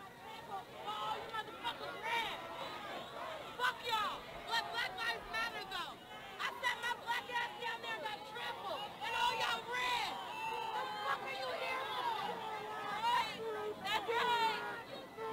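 Crowd noise from a nighttime protest, a dense babble of many voices with shouts rising and falling in energy, heard at a distance as if played back.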